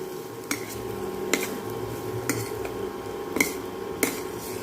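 A spoon scrapes and taps against a pan while ground coconut-cumin paste is mixed into siru kizhangu fry, giving a few sharp, spaced clinks over a low stovetop hiss.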